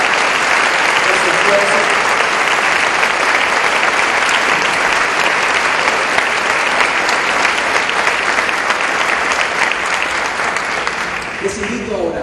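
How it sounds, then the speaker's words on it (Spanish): A large audience applauds volunteers at a religious conference, dense sustained clapping filling the whole stretch and fading slightly near the end, with a voice speaking over it. "A ellos también quiero que les rindamos un aplauso de reconocimiento y de gratitud"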